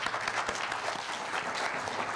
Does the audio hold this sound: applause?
yes